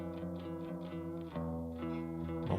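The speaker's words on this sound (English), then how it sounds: "Maybe a really short spring reverb." A short spring reverb sits on a music track during mixing, adding a faint metallic shimmer and smear to steady sustained tones and plucked notes that run continuously at an even level throughout.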